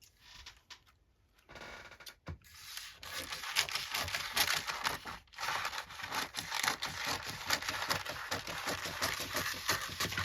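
Baking paper is cut close by, with a long run of rhythmic crisp snips and scrapes after a brief quiet start and a couple of pauses.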